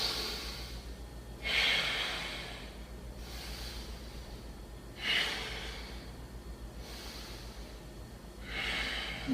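Slow, steady breathing held through a yoga leg-lift pose, three distinct breath swells a few seconds apart, close and fairly soft over a low steady hum, no talking.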